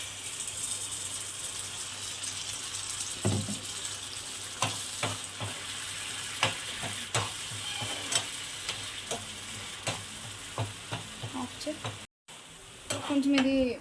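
A ground three-ingredient paste cooks in a pan with a low, steady sizzle, punctuated by repeated clinks and scrapes of a spoon stirring, brief dropout near the end followed by louder bubbling.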